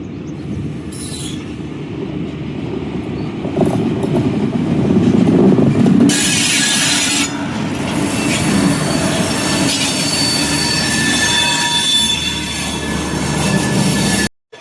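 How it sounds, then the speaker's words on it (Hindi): An Indian Railways train rolls slowly into a station, a loud, steady rumble of wheels on track with metallic squeals and clanks, heard close and continuous until it cuts off abruptly at the end. "ये हमारी ट्रेन भी एंटर कर चुकी है"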